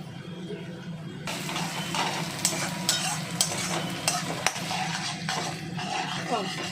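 Onions and chicken fry in a pan with a steady close sizzle, broken by the scrape and clink of a utensil stirring against metal at irregular intervals.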